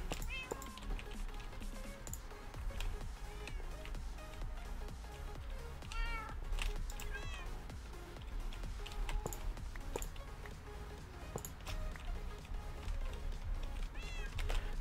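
Repeated cat meows from a Minecraft cat, several distinct calls scattered across a busy game soundscape with clicking and ticking sounds, steady and moderately loud throughout.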